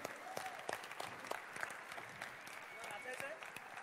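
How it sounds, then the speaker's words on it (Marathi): An audience at a Pen Vedh 2018 event applauds for Madhur, a soft, fairly distant round of clapping that runs steadily for a few seconds beneath faint background voices. "जोरदार टाळ्या मधुरसाठी"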